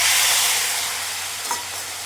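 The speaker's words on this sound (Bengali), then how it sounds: "গুলে রাখা মশলাটাকে তেলে দিয়ে দিব, কারণ এটা বহুত ছিটবে, তো দিয়ে পটাপট লাড়তে হবে" Spice paste spattering in hot oil in a pan for a paneer curry, a loud continuous sizzle and hiss close by, with a brief clink of stirring midway.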